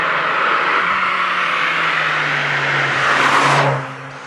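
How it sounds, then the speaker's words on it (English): A supercharged Lotus Elise with a Toyota ZZ engine revs hard, its engine note climbing steadily and loudly before dropping off sharply as the throttle is released. "underneath is your Toyota ZZ engine, super reliable, revs like a madman"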